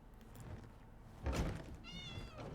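A cat meows in the video game Elder Scrolls Online: Elsweyr, a short, wavering cry near the end following a dull thump, all over a soft, full game ambience.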